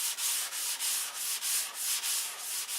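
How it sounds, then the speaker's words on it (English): Sandpaper rubbed in a crosshatch pattern across a model airplane wing, a close, steady scratchy rasp broken into quick back-and-forth strokes about twice a second. "Remember, roll the sandpaper in a crosshatch."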